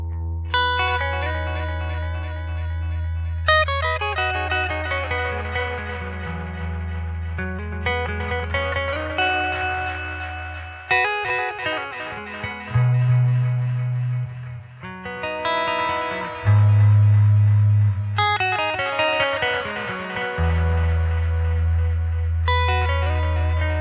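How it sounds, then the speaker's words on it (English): An electric guitar plays through a Catalinbread Belle Epoch tape echo delay pedal, with repeated picked phrases and chords. Washy echo trails and repeats ring over a sustained low bass tone for about twenty-four seconds. "let's hear the Catalinbread Belle Epoch"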